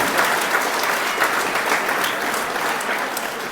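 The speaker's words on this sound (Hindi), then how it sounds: "तालियां बहुत कम बजती है" Audience applause at a community award ceremony, sustained dense clapping from a large crowd, steady and loud throughout without voices on top.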